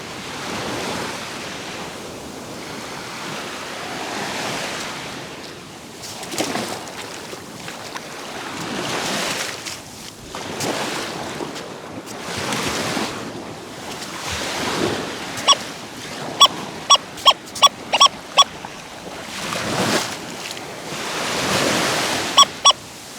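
Ocean waves surge and break on a beach shore in repeated broad washes, with wind noise and a run of short electronic beeps from a metal detector in the middle.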